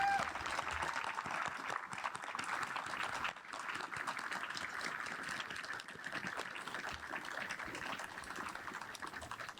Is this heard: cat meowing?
no